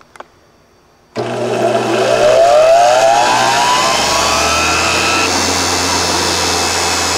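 DC-rated 1 horsepower treadmill motor switched on at 120 volts AC, kicking in abruptly and whining up to speed with a rising tone, then settling into a loud steady hum and buzz.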